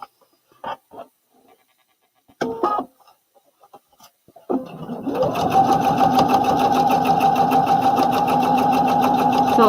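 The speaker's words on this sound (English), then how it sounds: "Sew these sides together." A sewing machine stitches fabric sides together while a romper is made, starting after a few seconds of small handling knocks and running as a loud, steady whir through the rest of the clip.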